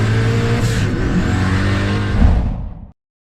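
A Shelby Supercars hypercar engine roars at high speed, a loud sustained drone with a rising rev near the end before cutting off abruptly.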